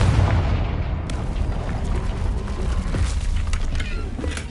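Confringo blasting spell going off in Hogwarts Legacy on PS5, a dense rumbling burst of booming, crackling impact noise that fills the whole stretch loudly, with sharp transient cracks scattered through it.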